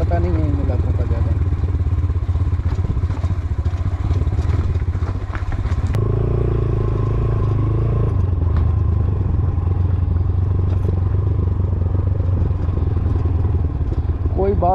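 A motorcycle rides over loose stones and mud on a rough mountain track, its mid-pitched engine droning steadily throughout with rattling clatter and thumps from the rocky ground, loud and close, with talk over it.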